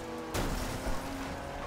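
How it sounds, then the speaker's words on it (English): A racing car slams into a civilian car in Forza Horizon 2, a single sharp crash that breaks over steady engine and road noise before the game sound carries on. "Smash into another civilian car."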